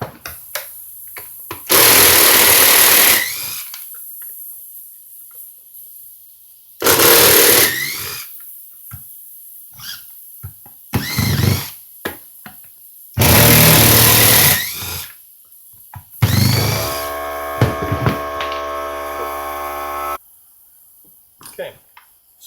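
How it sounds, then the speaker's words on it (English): Power tool bursts as screws holding the motor are backed out of a leaf blower, several separate whirring runs of a few seconds each, close and loud, with short pauses of handling noise between them. "Now we're going to have 4 more screws just around here to take off, and that's what holds on the motor."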